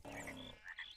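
Frogs in the Minecraft video game give a close, clear croak with a rolling, pulsed quality, followed by a softer chirping croak, about a second long with no talk.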